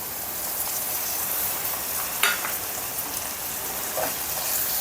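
Chichurda greens stir-fried in a pan, a steady broadband sizzle with a few light clicks of stirring, moderately near and heard alone without talk.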